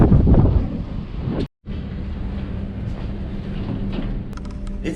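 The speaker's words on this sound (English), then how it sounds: "It is windy out there. Listen to it whip." Steady roaring wind buffets the microphone on the deck of the cruise ship Voyager of the Seas, a continuous low rumble with gusty hiss, briefly cutting out once before resuming.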